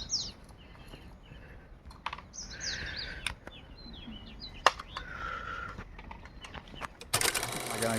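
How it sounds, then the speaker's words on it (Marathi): Small birds chirp and call intermittently at a distance in quiet hill countryside of a rural village, with faint voices, scattered clicks and a burst of noise near the end. "डोंगर वगैरे, शांत पक्ष्यांचे आवाज."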